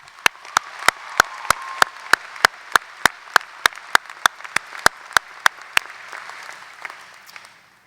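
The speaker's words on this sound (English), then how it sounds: "I think that deserves a round of applause." Audience applause at a 2016 undergraduate commencement address: a steady wash of crowd clapping with sharp, evenly spaced loud claps ringing out on top, fading away near the end.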